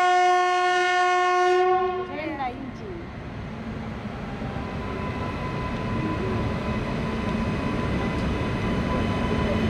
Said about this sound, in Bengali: মালগাড়ি আসছে না, শুধু ইঞ্জিন আসছে।